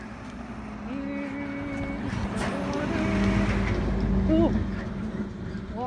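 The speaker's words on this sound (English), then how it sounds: "the truck is heavy" A heavy truck passes on a road near a spot where doves are being fed, its low engine rumble swelling to a peak around the middle and then easing, with talk and other traffic in the background.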